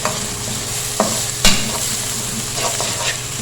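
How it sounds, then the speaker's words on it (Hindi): Roughly chopped onion sizzles steadily in a hot pan while being stirred, with a constant close frying hiss and a few sharp scrapes and clinks from the spoon. "ये एक प्याज है, इसे मैंने रफली चॉप कर लिया। और इसको सौते करेंगे।"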